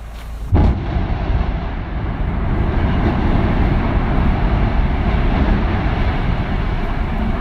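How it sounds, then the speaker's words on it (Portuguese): A controlled building demolition: a sudden sharp explosive blast followed by a long, heavy rumbling roar of collapsing debris that stays loud and continuous. "Essa demolição perfeitamente controlada mostrou o trabalho minucioso dos especialistas em explosões."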